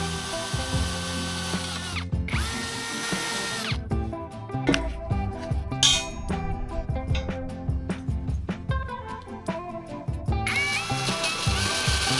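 A power drill whirs loudly and steadily while drilling holes in metal pieces for a tiny house floor frame, its pitch dipping and surging as it bites, with brief pauses and rattling mechanical clatter between runs.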